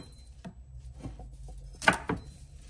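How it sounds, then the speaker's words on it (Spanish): Knife chopping celery on a cutting board for a tuna salad, a few sparse soft taps followed by a louder cluster of quick chops near the end. "vamos a tratar de picar nuestro apio un poco fino"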